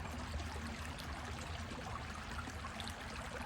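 A creek flows steadily nearby as a water sample is drawn, a continuous close babbling rush with no talk over it.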